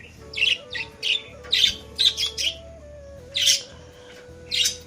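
Pet pigeons, with young birds nearby, give short, sharp, squeaky calls in about seven spaced bursts over a steady low background hum, close and fairly clear.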